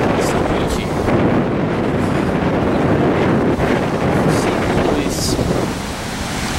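Loud surf rolls onto a rocky beach where a river meets the sea at Praia da Barra, Costa do Sauípe, a constant roaring wash mixed with wind buffeting the microphone.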